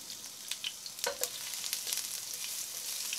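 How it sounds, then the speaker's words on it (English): Whole spices sizzle in hot oil in a pot, a steady close crackle with a few sharper pops and light stirring clinks, no voices. "let them sizzle for a while"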